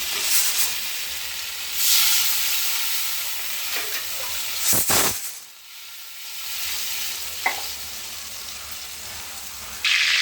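Mutton browns and sizzles with spice paste in a pan, a loud hissing fry with a few scraping stirs, briefly dropping quieter midway before the sizzle returns, close up and without talk.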